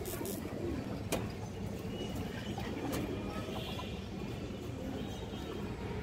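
A female silver-line high-flyer pigeon cooing softly amid steady background noise, with a couple of sharp knocks nearby.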